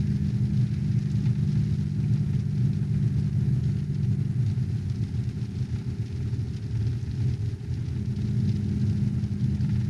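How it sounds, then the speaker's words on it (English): A 2019 Ram HD high-output diesel pickup drives along a windy, narrow road with automatic engine braking engaged, giving a steady, deep engine rumble and drone that holds evenly throughout with no talking. "Now this truck is the high output diesel"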